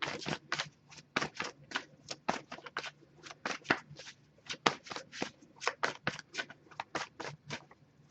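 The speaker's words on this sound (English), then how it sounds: "if I shuffle for a while without anything coming up, I'll just move on to the next Oracle deck" An oracle card deck being shuffled by hand, close and fairly quiet, giving a steady run of crisp riffling snaps in quick succession with no talking.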